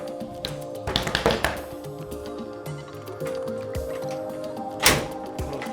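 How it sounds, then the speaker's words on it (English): A Rough Country hard tri-fold bed cover is flipped down onto a pickup truck bed, giving a few close hollow thumps and clacks with some rattling between them. "we're going to flip this down and see if it kind of aligns up"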